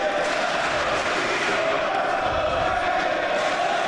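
A pro wrestling arena crowd roars steadily in support of Dragon Kid during a DGUSA match, a dense, continuous wall of cheering and chanting with no breaks.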